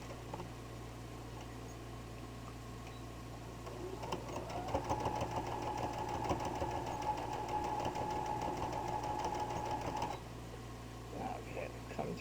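A sewing machine stitches a quilted jelly roll heart hotpad, starting up with a quick, steady run of needle strokes for several seconds before stopping, over a faint constant hum.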